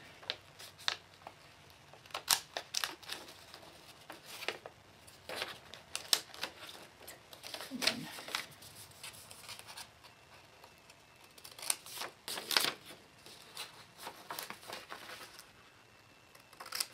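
Sharp scissors snip through embroidery fabric for a chalice vestment column, giving a quiet, irregular series of crisp cuts and rustles with no talk.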